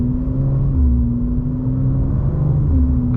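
A BMW M2 G87 with a loud exhaust drives through Las Vegas, its engine holding a steady low drone and rumble from inside the car, with no talking.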